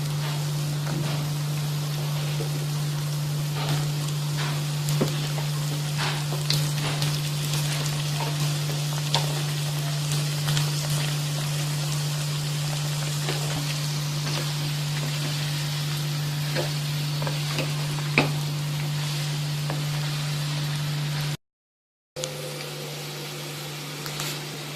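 Snake gourd pieces cook in a pan with fried onion, giving a steady soft sizzle and scattered light crackles over a constant low hum. A short dropout of silence comes near the end.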